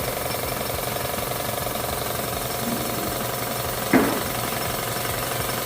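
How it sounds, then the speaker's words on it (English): A paint can shaking in a paint shaker machine, a steady mechanical rattling hum running throughout with one brief louder knock near the end, with no talking. "It's in the shaker. Shake, rattle, and roll, baby."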